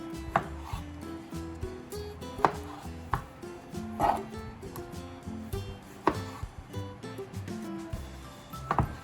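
A knife slices down through a large fresh tomato on a cutting board, giving repeated crisp, close chopping thuds at irregular intervals with soft squishing between strokes.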